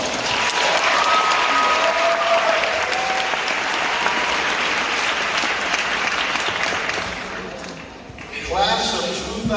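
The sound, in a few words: applause at a high school graduation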